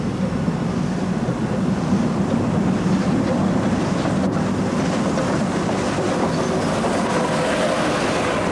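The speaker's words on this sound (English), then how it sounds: "The railway uses Bayer Garrett locomotives purchased from South Africa, the largest locomotives ever built for the 2-foot gauge" A Beyer Garratt steam locomotive, number 138, pulls away on a new two-foot narrow-gauge railway in Wales, a continuous loud rumble and rush of the engine and rolling stock close by.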